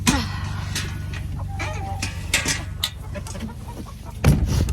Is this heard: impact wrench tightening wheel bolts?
no